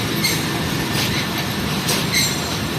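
A passenger train with an AC sleeper coach stands at a station stop, a loud steady rumble of rail noise and machinery with faint metallic squeals and clatter filling the platform.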